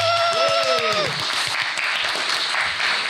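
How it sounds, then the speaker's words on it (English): Crowd applause at a live business show event: dense, steady clapping fills the room throughout, with a rising cheer or whoop over the opening second. "Can we give everybody a round of applause?"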